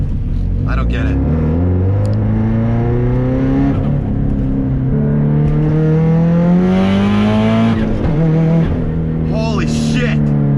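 A 500 hp Subaru STI with a misfire pulls hard through second gear, its loud, close engine note climbing and dropping in continuous sweeps with a rushing turbo spool layered over the revs.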